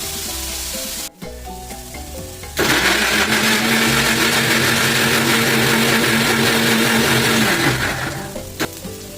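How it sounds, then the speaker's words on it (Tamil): A mixer grinder purees two tomatoes for a chickpea gravy, starting with a sharp click and then roaring loudly and steadily up close for several seconds before winding down. "இதை நம்ம மிக்சியில் நல்லா நைஸாக அரைச்சி எடுத்துட்டு வந்துடுவோம்"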